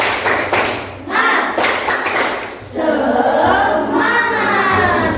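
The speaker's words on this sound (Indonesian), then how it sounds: "satu kali tepuk semangat" A school class performs a rhythmic spirit clap together, loud patterned bursts of group clapping and taps in quick sequences, close and filling the room.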